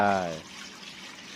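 Yanang leaf juice is poured into a cooking pot, giving a short, close splash and trickle of liquid that fades within about a second, with a brief voice at the start.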